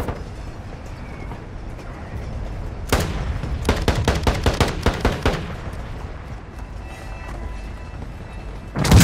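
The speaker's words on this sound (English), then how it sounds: "Friendly mortar strike on the way." A friendly mortar strike lands in the video game Call of Duty, a rapid cluster of heavy blasts and bangs rolling over a few seconds against a low rumbling backdrop, followed by a quieter stretch before another loud impact at the end.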